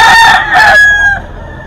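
A gamecock at a cockfighting arena lets out a loud, close crow in two sharp bursts, followed by a sustained tail, with quiet background ambience.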